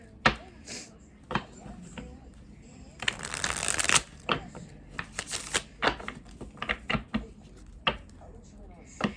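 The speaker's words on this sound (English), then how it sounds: "So let's get some cards." Tarot cards are shuffled close at hand in a pick-a-card reading, making crisp riffling bursts and sharp taps between them while a person talks softly over the handling.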